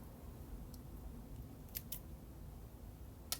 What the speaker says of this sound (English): Y'all don't ever put scissors this close to your face